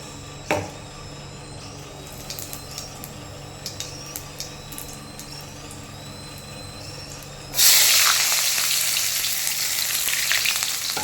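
Spice masala for pea ghugni fries in a pan. A quieter sizzle comes first with scattered clicks of stirring, then a loud hissing burst takes over as more goes into the hot oil and keeps sizzling strongly.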